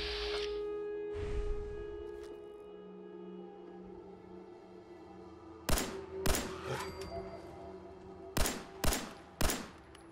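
Gunfire in the post-apocalyptic shooter Fallout 4 using 10 mm ammunition, sharp single shots in two clusters, loud and close against a low ambient hum.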